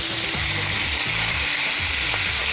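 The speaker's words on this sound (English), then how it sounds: "Just stir the prawns around and season lightly with salt." Prawns frying in a pan while being stirred and lightly salted: continuous loud sizzle with repeated scraping strokes of the stirring, close up and without talk.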